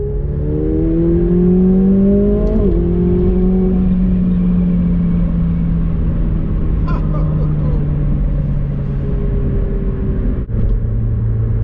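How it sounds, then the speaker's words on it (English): A 2019 McLaren 720S sends out a loud, close exhaust roar that climbs in pitch as the car accelerates, then settles into a steady, powerful drone. "the exhaust is really loud"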